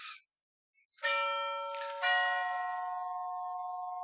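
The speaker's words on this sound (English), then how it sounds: "Someone's just rung the doorbell" A two-tone ding-dong doorbell chime rings once indoors, the first tone struck then a second overlapping it, both ringing out and sustaining clearly until the end, with no talking.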